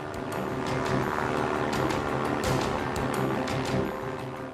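An aircraft dangerously low on fuel roars past close over a runway, a loud continuous engine drone with rushing wind noise and intermittent thumps, no voices.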